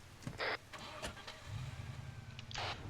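An unarmed pickup truck's engine cranks and catches in the Arma 3 military simulation game, settling into a low idle. A few short clicks and bursts of noise sit around it, all fairly faint.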